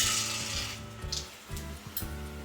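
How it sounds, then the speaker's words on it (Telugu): Mustard seeds, cumin, urad dal and chana dal spluttering in hot oil for upma, a steady bright sizzle with scattered small pops, close and continuous, no talking. "పోపు కొంచెం చిటపటలాడిన తర్వాత"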